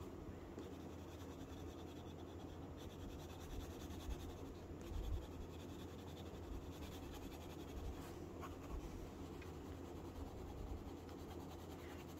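Colored pencils are shading the base color onto a carp's scales on paper: a steady, soft, scratchy rubbing that continues quietly throughout, with a faint low background hum and no talking.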